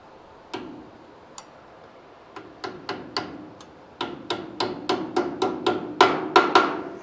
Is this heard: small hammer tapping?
yes